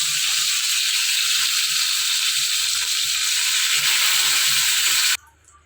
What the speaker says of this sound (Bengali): এই তেলের ভিতর দিয়ে দেবো এই গোটা গরম মশলা ফোড়ন